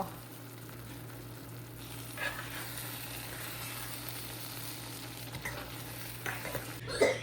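Garlic chutney sizzles in hot oil with a steady, close frying hiss, punctuated by occasional stirring scrapes and a louder clatter of utensils at the end.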